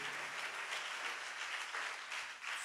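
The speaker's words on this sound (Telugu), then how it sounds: "చప్పట్లు కొడదాం అందరూ గట్టిగా" A church congregation at a Sunday service in Chennai claps together loudly, steady dense applause filling the whole short moment.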